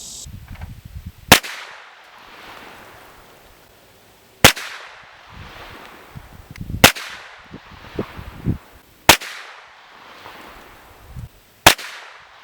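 PSA AKV 9mm straight-blowback pistol firing five sharp single shots at irregular intervals of about two to three seconds, close and loud, with quieter handling clatter between the shots.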